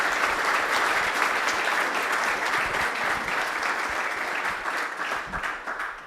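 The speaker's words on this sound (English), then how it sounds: "I'd like to give a big round of applause to Keith Newman for all that he's done for us" An audience gives a round of applause for Keith Newman after his presentation, with continuous, fairly close clapping that tapers slightly toward the end.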